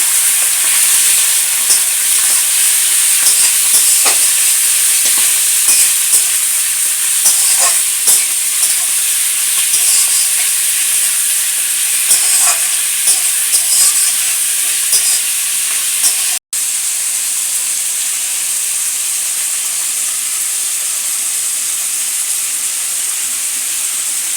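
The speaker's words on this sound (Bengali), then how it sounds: "এইবারে এটাকে একটু ভালো করে ভেজে নেবো" Chicken gizzard and liver frying in a pan, a steady close sizzle with the scrape and clatter of stirring throughout, briefly cut to silence once midway.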